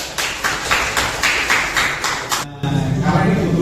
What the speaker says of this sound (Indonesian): Baik, tepuk tangan dulu.